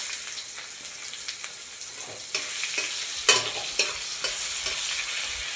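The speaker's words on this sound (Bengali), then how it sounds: "এটাকে আমি এবার লাল লাল করে ভেজে নেব।" Chopped onion fries in hot oil with dried red chili and whole cumin for a Bengali prawn and fig curry, a loud, steady sizzle broken by sharp scraping stirs of a spatula against the pan.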